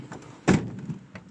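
A car door shuts with a single solid thud about midway through, set against quiet background noise.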